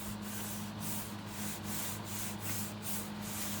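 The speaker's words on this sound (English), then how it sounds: "Give it a nice rub down." A sheet of paper laid over a freshly stamped design is rubbed down by hand for a craft project, a close, continuous dry scuffing with a steady back-and-forth rhythm of soft strokes.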